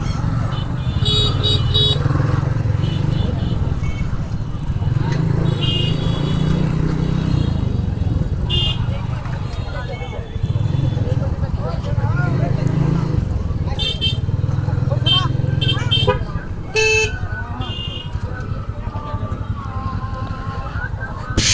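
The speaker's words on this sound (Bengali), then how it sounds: "এখানে একটু যানজট, এই অটোরিকশাগুলো স্থানীয়" Congested street traffic with local auto-rickshaws and motorcycles, a steady engine drone with passing vehicles and short horn toots, heard from a moving bike while people talk over it.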